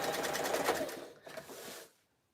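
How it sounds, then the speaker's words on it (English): A sewing machine runs quickly and steadily, stitching diagonal seams on jelly roll fabric strips for a rug, then slows briefly and stops, leaving quiet. "Twist it on a diagonal and sew a diagonal on the pieces."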